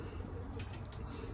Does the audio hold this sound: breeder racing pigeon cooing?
yes